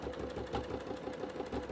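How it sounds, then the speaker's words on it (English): A sewing machine stitches a bag using a Teflon presser foot, a quiet, quick rhythmic mechanical clatter running steadily through the short moment. "what we're going to do now is actually stitch in that stitch line"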